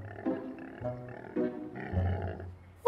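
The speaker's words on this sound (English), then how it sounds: "That's the sound of a sick dino." Low, rumbling groans from a sick stegosaurus dinosaur come in several drawn-out, grunting bursts, close and moderately loud, with a brief sharp sound at the very end.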